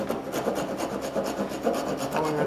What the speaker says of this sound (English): Okay, let's do some filing.